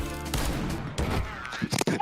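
Gunfire in a Counter-Strike match: a rapid burst of sharp, close rifle shots followed by a few more scattered shots, fairly loud and with no talk over them.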